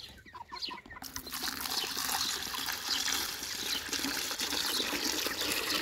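Chickens or ducks clucking while drinking from water, a steady wash of splashing and trickling with soft clucks mixed in, close and continuous, after a brief quieter start.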